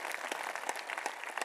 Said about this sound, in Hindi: ये जो आपकी तालियां हैं इनका घनत्व तो थोड़ा बढ़ा दें